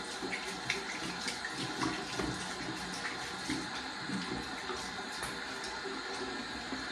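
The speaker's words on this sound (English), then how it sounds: "I'm gonna wet the face and get into the shave" Water runs steadily from a tap for the entire stretch as someone wets their face before a shave, a continuous close splashing hiss with small irregular splatters and no talking.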